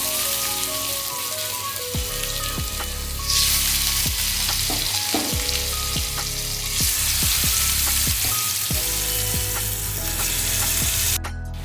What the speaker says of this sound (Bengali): তেল আর ঘিটা গরম হয়ে গেছে, এবার আমি এতে ম্যারিনেট করা মাংসটা দিয়ে দেবো।